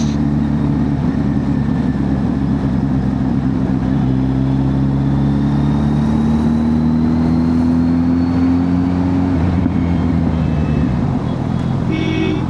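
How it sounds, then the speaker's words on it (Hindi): Traffic noise on a city street as a police car drives past, a loud, steady engine rumble with a rising tonal whine sweeping upward across the middle, then easing off, with a brief honk or beep near the end. "अब यहाँ पुलिस की गाड़ी जा रही है"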